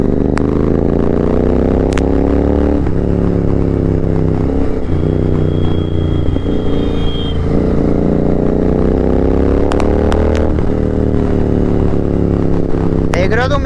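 Royal Enfield GT 650 motorcycle riding along a road at night, its engine droning steadily and loudly up close with slight rises and falls in revs, someone talking over it throughout.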